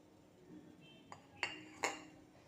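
A metal spoon stirs custard powder into milk in a bowl, making three quick, faint clinks against the side, with quiet kitchen ambience around them.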